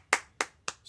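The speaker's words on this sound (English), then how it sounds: "speaker a round of applause." Three sharp, separate claps spaced about a quarter second apart, fairly close and clear, as an audience begins a round of applause for a guest presenter at an RCOS meeting.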